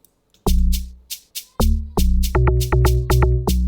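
Log drum in an afrobeats beat: deep, booming tuned bass notes, a few spaced hits then a quicker bouncing run, layered with crisp shaker-like strikes in a steady groove, loud and up front with no voices.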